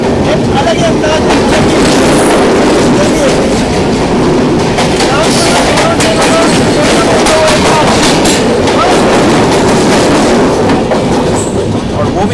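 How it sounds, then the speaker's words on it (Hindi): Grand Trunk Express train wheels clatter loudly and steadily on the rails during a crossing, a dense continuous rumble with rapid clicking running through the whole stretch. "और वो भी ताबड़तोड़ ट्रैक साउंड्स के साथ"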